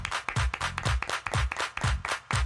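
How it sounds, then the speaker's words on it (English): Hands clapping in a quick, uneven rhythm, about a dozen sharp close claps with short gaps between them and no talking. "Everybody clap your hands."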